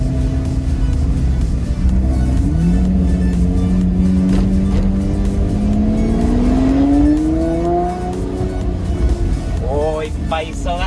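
A Lamborghini V12 engine roars loudly and close, its deep note climbing and swelling under revs before easing, with a quick blip of revs at the end and talk over it.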